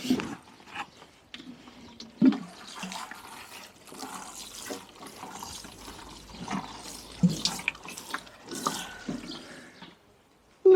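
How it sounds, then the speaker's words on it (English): Water splashing from a can onto newly sown seeds in an allotment bed, a steady pouring wash with a few louder splashes and knocks, close by and alone. "And then we'll water that in"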